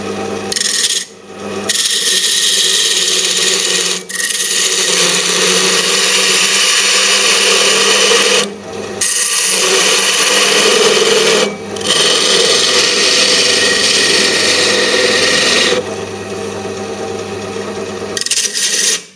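Woodturning lathe with a tool cutting the walls of a grasstree bowl down to final depth and thickness: a loud, continuous rasping scrape that runs almost without break, interrupted by a few short pauses where the tool lifts off.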